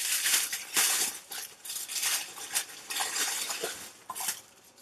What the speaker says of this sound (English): Okay, and it's wrapped in tissue paper.